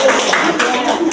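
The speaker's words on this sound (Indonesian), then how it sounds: "Tepuk tangan Bu Rere." Brief, scattered hand clapping in a school training session, a short burst of claps mixed with a voice talking nearby.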